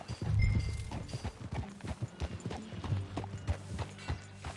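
Horse hooves clip-clopping at a steady walking rhythm, close and fairly loud, with low rumbling background and no talk over it.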